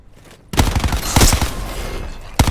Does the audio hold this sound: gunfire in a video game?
yes